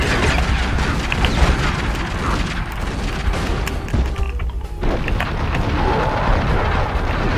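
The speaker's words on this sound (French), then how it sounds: "Qui m'envoie des grenades?" Grenade blasts in the video game Tomb Raider Legend, heavy booms and crashes over a dense, loud mix of game action with mechanical creaks, several impacts spread across the scene.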